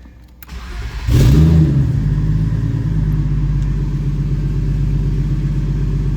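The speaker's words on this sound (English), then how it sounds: "Let's see if she starts up and goes into gear and all that good stuff." Car engine with the exhaust removed cranks, catches and flares into a loud rev, then settles into a steady, rough, close idle.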